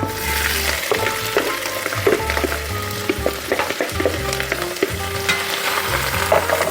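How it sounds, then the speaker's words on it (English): Butter and shrimp sizzle loudly in a heated Dutch oven, a continuous close frying hiss with stirring clinks, while background music plays underneath. "we have got a Dutch oven heated up. We're gonna put the butter in"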